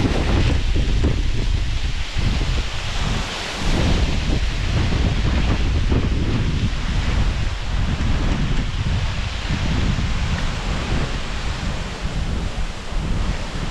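Waterfall spray crashing into the splash pool at the foot of Hell Gill Beck, a loud, continuous broadband roar with surging swells and gusty wind buffeting the microphone throughout.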